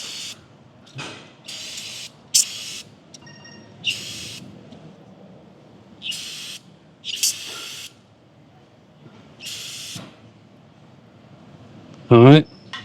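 Short hissing bursts of aerosol cleaner spray in repeated spurts during an oil change on a 2021-2023 Hyundai Elantra, with quiet gaps between them and a louder burst near the end.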